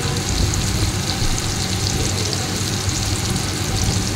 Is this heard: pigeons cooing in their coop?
no